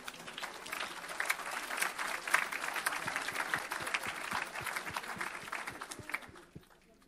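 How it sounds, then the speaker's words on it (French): A church congregation applauds and cheers during a worship service, a dense steady wash of clapping with scattered shouts that carries on throughout and tapers off near the end. "On acclame le Seigneur."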